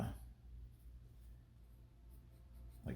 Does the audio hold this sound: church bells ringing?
no